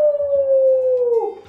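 A voice imitates an elephant's trumpeting call in a Romanian children's story about a savanna feast, giving one loud, sustained wavering cry that slides downward and fades out, with no other sounds.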